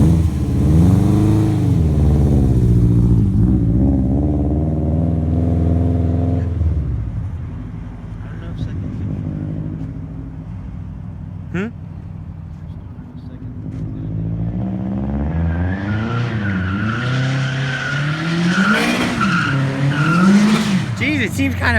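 A big-turbo Subaru swapped to rear-wheel drive drifts on a foggy track, its engine revving hard and loud with tires squealing. The roar dips midway, then builds again with rising revs.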